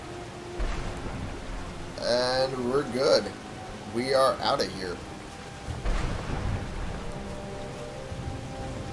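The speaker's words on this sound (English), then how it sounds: "that storm will last around you for a little while" Steady rain and distant thunder from a Skyrim thunderstorm hiss in the background throughout, while someone talks over it in bursts.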